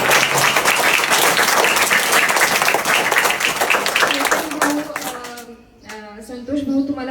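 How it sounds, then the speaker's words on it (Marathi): Crowd applause from children for members of a community group at a social gathering, steady and dense before thinning out, with a voice speaking over it toward the end. "सगळ्यात आधी माझी अशी इच्छा आहे की ह्या बालचिमुकल्यांनी ह्या वर्चस्व ग्रुपच्या सगळ्याच मेंबर्स करता एक जोरात टाळ्या वाजवून त्यांचंही मनापासून कौतुक करावं"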